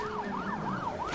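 Police siren in the video game Need for Speed Most Wanted (2012), a loud rising-and-falling wail cycling about three times in a quick burst over the steady rumble of car engine noise.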